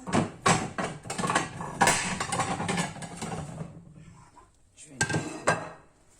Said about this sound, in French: je vais sortir une assiette